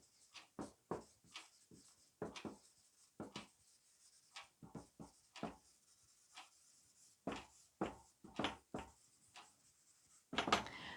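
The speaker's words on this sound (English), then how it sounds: "Okay, so I'll just write that." Pen or marker writing on a board during a physics lesson on power, a run of short scratchy strokes and taps in an irregular rhythm with brief pauses, fairly close and moderately quiet, with no talk.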